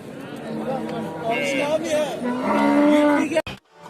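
A cow lets out a drawn-out moo amid busy chatter at the Kattakurgan livestock market in Uzbekistan, with people talking nearby and a sudden clunk at the end.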